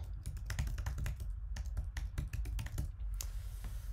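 Someone types a web address on a computer keyboard: a quick, steady run of close, crisp key clicks that lasts about four seconds with no talking.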